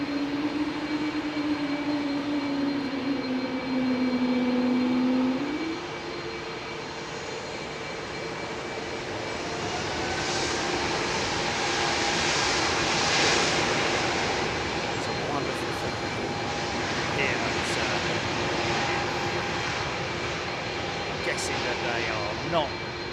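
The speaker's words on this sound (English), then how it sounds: "Trent 700s on that 330" An Airbus A330 with Rolls-Royce Trent 700 engines roars at London Heathrow, a steady broad jet rumble that swells through the middle and lingers, with voices talking over it.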